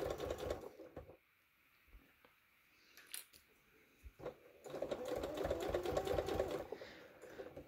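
A sewing machine stitches a cushion cover with a zipper, its needle chattering in a rapid, steady mechanical run. It starts, pauses briefly, then picks up again louder and close by, with no voices.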